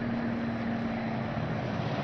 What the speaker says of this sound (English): Okay, I hear a plane,